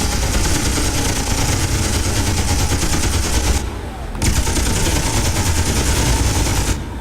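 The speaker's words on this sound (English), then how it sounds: "You can engage from the front with the guns, with Gatling guns." Rapid, continuous Gatling gun fire from a fighter craft in Space Engineers, loud and dense with a low engine hum beneath, breaking off briefly midway before resuming.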